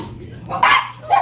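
Dogs around a seaside house in Iligan City give two short, fairly close barks about half a second apart over a quiet outdoor background.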